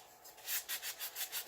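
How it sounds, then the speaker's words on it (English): Rhythmic back-and-forth sanding of cured epoxy on a glitter tumbler, close and fairly quiet, a steady series of rasping strokes with no talking. "Sand until it's smooth."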